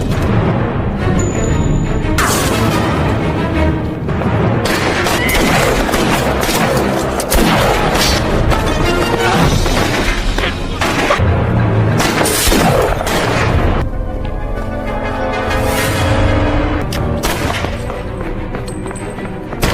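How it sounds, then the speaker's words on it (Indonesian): Dense, continuous gunfire and heavy booming blasts from a film gunfight fill the scene, loud and chaotic, with bursts of shots and explosions layered over a cinematic soundtrack. "Hingga adegan tembak-tembakan pun tak terhindarkan"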